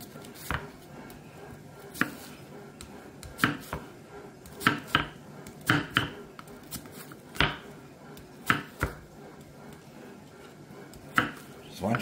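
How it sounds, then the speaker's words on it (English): SYOKAMI Japanese-style multifunction carving knife chopping food on a board: sharp, irregular close chops spread through the clip over quiet background. "Now we're gonna have some fun chopping this guy up."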